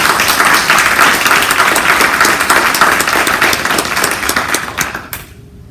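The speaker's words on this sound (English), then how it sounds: "So please, a round of applause." Loud, dense applause from a crowd at a college-wide meeting honoring staff, sustained and even for several seconds before cutting off abruptly.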